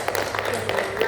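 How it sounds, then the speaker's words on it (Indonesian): A small group clapping hands during a group counseling session, quick scattered claps at moderate level over faint background hum, short and even. "kita tepuk tangan dulu"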